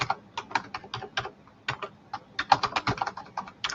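Quick, close keystrokes tap out a password on a computer keyboard, two bursts of rapid clicking separated by a brief pause, with no talking.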